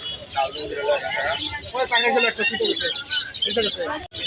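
Pigeons coo and flutter close by amid a crowded, noisy pigeon market in Hemayetpur, with people talking over the birds.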